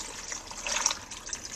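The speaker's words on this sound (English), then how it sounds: "And now I'm going to throw my water in." Water pours into a blender jar holding cucumber, pineapple and ginger for juice, a close, bubbling gush that swells in the middle and tapers off, with no talking.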